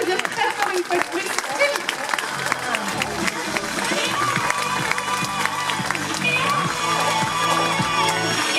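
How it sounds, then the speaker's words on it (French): A crowd applauds at a sea lion show at La Flèche zoo, with scattered clapping building to steady loud applause amid splashing, cheering and chatter, and voices heard throughout. "je pense que l'on peut applaudir très fort une fois de plus"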